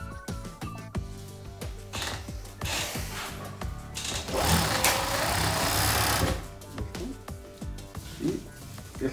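A sewing machine joins the shoulder seam of a women's garment, front and back pieces stitched together in steady rhythmic bursts. The motor runs loud and close, speeding up and slowing in short runs with brief pauses between.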